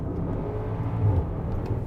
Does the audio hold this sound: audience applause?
no